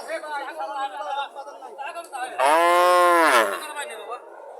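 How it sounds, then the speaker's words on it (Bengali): A Friesian dairy cow gives one long, loud, close moo with rising and falling pitch, set among ongoing human chatter from a cattle market. "গরুটা বলতেছে"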